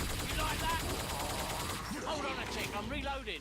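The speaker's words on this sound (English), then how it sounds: "just mag dump on the body. Because you can kill a Scrake through body damage in a single magazine on the Helios rifle" Sustained burst of automatic rifle fire from a tier 5 Helios rifle emptying a full magazine into a Scrake's body in Killing Floor 2, rapid close shots layered with game effects and creature sounds toward the end.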